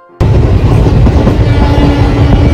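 A train rolls steadily along the tracks with a constant loud rumble and clatter of the carriages, beginning abruptly and continuing without a break and with no voices.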